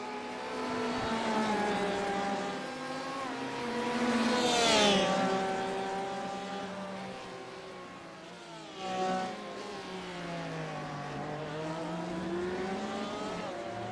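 Race cars in a sim racing game roar through the hairpin at Zolder, engines braking down and revving back up with pitch sweeps, one car following another, loud and close.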